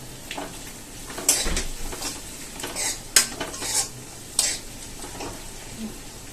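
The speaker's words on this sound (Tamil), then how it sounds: "தக்காளி நல்லா வதங்கட்டும்" Tomato and onion sautéing in a pan for chicken sukka, an even sizzle under repeated scraping and clanking strokes of a spatula against the metal pan, close by and with no talking.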